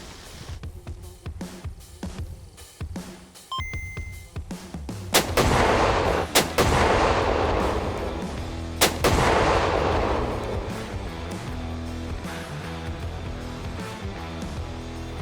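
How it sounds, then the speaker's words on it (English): Gunshots are fired at airless off-road tires outdoors, with several loud, sharp booming cracks that each ring out into a long rolling echo, separated by quieter stretches with faint handling noise. "We're out shooting guns and trying to explode the product that we make."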